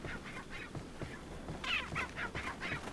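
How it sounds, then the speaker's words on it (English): Chickens in the video game Resident Evil 4 give a rapid run of short, nasal squawks in a steady rhythm, fairly faint and with no talk over them. "Chickens will drop an egg after a certain amount of time, or when killed."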